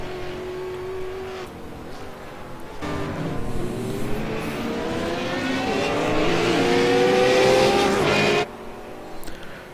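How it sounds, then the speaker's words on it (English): Super late model race cars with high-horsepower engines: a loud engine roar builds and climbs in pitch as cars accelerate and pass close by on a racetrack, then cuts off abruptly near the end. "A lot of horsepower under the hood of those super late models."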